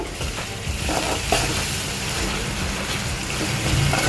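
Ginger garlic paste fries in a pan, a steady close hiss and crackle of sizzling oil that stays even throughout, with occasional faint stirring scrapes.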